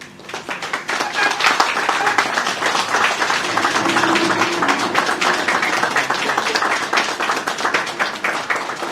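An audience at an award ceremony breaks into sustained applause, a loud, even roar of many hands clapping that swells after a quiet start and holds for several seconds, with a faint voice briefly underneath.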